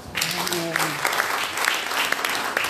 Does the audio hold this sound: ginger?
no